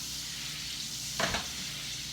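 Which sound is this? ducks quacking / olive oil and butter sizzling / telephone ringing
olive oil and butter sizzling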